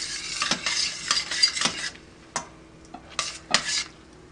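Chopped shallots sizzle in a pan for chicken scampi as a utensil stirs them, giving bursts of scraping and frying crackle in an uneven rhythm, close and fairly quiet, with no talking.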